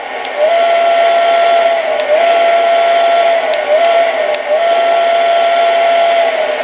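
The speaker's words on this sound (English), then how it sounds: "listen to the different whistles on this. So let's start off with the Lionel Lion Chief steam locomotive" A Lionel Lion Chief O gauge model steam locomotive sounding its whistle, a loud, close, repeated steam-style tone in long blasts separated by short breaks, with a faint hiss underneath.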